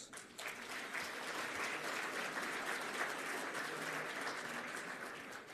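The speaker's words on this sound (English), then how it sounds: "I would like us to give all of us a massive round of applause." Sustained, dense applause from a large summit audience, steady and loud throughout without a break, no speech on top.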